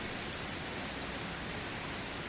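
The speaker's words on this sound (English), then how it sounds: "the rain hammering the roof" Steady rain hammering on a car roof, a dense, even hiss of drumming drops with no letup and no voices.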